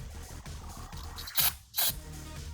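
Two quick hissing spray bursts from a cleaner bottle onto a Weber 44 IDF carburetor during a rebuild, close by, over a low background murmur.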